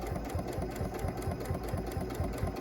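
A Janome Continental M7 sewing machine stitches flange binding at a quick, steady pace, with a close, continuous rapid mechanical chatter and hum.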